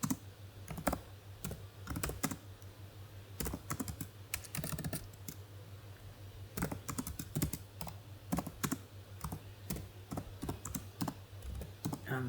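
Someone types a query on a computer keyboard, steady close key clicks in uneven bursts with short pauses, fairly quiet over a low constant hum.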